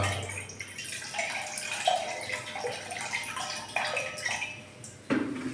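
Homemade liquid plant fertilizer is poured into a cup, giving an uneven splashing trickle with several sharper spills and pours, moderately close and alone.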